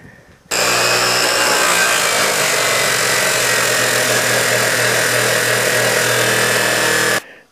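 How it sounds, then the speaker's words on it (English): A chop saw cuts metal stock for a dry washer bellow flapper valve modification, a loud steady whine and grind that starts abruptly and runs for about seven seconds before stopping, with no talking. "I'm going to take the chop saw and I'm going to make a hexa size here"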